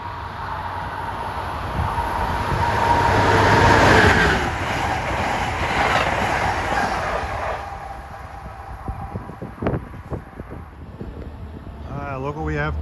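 A westbound Amtrak train passes at Levittown heading for Philadelphia, a loud rushing roar with rhythmic rail clatter that fades into lighter clicking. A voice speaks near the end.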